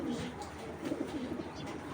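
Pigeons of a prized Bangladeshi fancy breed, including a Beji hen, coo softly in a loft, with low repeated murmuring calls mixed with faint background rustle and possible nearby talk.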